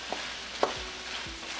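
Whole green chilies hit hot oil in a pan of aloo kheema korma, a brief close sizzle with a couple of stirring clinks, quiet and short, no talking.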